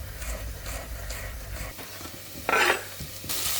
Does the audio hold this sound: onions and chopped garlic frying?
yes